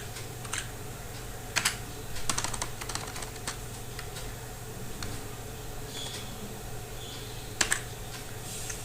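Typing on a computer keyboard: soft key clicks come in short irregular bursts with a few louder taps, close and quiet, with no talking over it.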